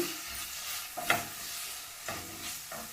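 Chillies and ginger paste frying in a pan with a spoon stirring through them, a steady soft sizzle broken by a few scraping strokes, close-up with no voices.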